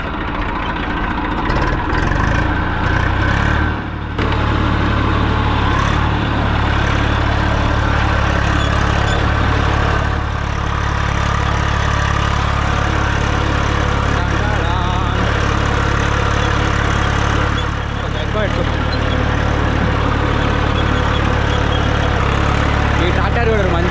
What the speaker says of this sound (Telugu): ఈ ట్రాక్టర్ కూడా మంచిగా గుంజుకొని పోతుంది